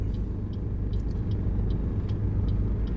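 Big FedEx truck driving past on a Texas road, a continuous deep rumbling engine drone heard from inside a vehicle, with a faint rhythmic ticking over the top.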